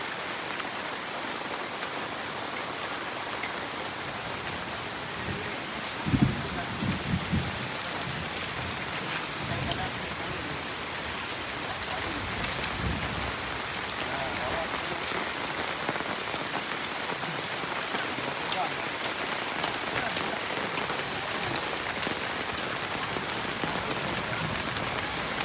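Rain falls steadily on a family campsite in Bentong, making a dense, even patter across surfaces throughout. A few louder knocks are heard near the start, and a voice is faintly present underneath.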